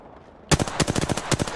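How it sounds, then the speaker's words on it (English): Rapid automatic gunfire in Apex Legends starts abruptly and rattles off in a quick burst of about a dozen sharp, loud shots, close and clear with no talking over it. "Listen up, I'm getting shot at."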